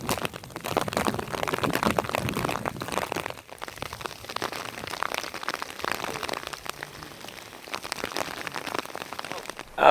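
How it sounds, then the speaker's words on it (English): Hail pelting down on a high mountain trail in the Uinta range, a dense steady patter of small hard impacts continuing for the whole stretch, close and fairly loud with no voices. "Getting a little bit of hail for the first time this week."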